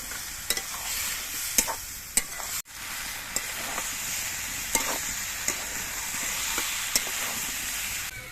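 Spiced vegetables stirred and sautéed in a pan with a splash of water for a Ganges tengra fish recipe: steady broadband sizzle with regular sharp spoon scrapes and clicks against the pan, close and alone, no talk.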